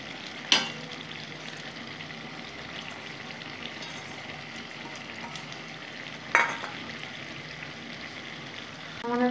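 Fried boroli fish go back into a hot pan of gravy and fry in a steady, close sizzle, with two sharp clanks of a spoon or utensil against the pan as they are stirred.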